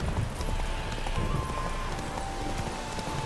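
Hooves of Roach, a horse in the video game The Witcher 3, clop steadily in a continuous rhythm under a dense layer of ambient game sound, moderately close and persistent throughout.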